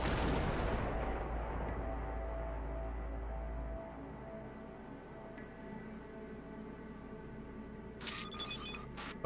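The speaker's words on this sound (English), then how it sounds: "Now, detonate the grenade." A grenade detonates in the video game Cyberpunk 2077: a loud boom at the start that fades into a rumbling tail over several seconds, then low game ambience and a brief burst of electronic chirps near the end.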